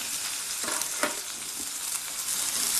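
Onions sizzle and crackle in hot oil up close, with a steady hiss and occasional stirring scrapes.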